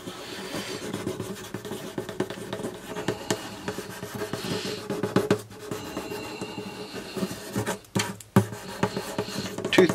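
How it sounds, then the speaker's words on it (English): Fine 2500 grit sandpaper rubs over the finish of a 1989 Washburn D12 N dreadnought acoustic guitar, making a soft, uneven scratching swish in repeated close strokes with a few brief pauses. "I'm going to use some 2500 sandpaper"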